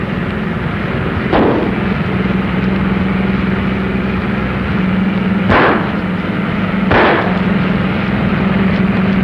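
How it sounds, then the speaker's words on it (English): Gunfire aimed at a fleeing car: three sharp, loud bangs ring out at irregular intervals over a steady engine drone, with no talking. "They're shooting."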